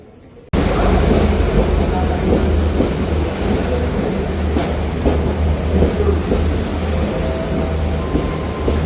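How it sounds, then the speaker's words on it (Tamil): A passenger train on the Colombo to Jaffna line rolls into a station and comes to a stop, producing a loud, continuous rumble with rattling and wind-like roar that fills the whole stretch. "இங்கே பாருங்கள் ட்ரெயின் வந்து நிற்கிது."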